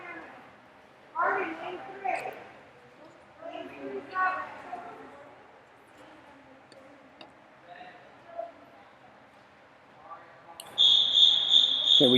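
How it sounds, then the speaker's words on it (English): A starter's whistle at a swim meet for an 8-and-under session sounds as a sharp, high, sustained blast near the end, following a stretch of echoing indoor crowd chatter and announcing voices. "Starter has blown the whistle"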